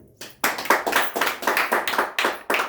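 Church congregation clapping hands together in a quick, steady rhythm of roughly a dozen crisp claps, loud and close after a brief quiet start, with no talking.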